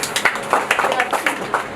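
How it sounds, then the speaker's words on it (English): Students in a class give a short round of applause, a mix of quick overlapping claps with voices chattering and calling out over them. "Let's give him a round of applause."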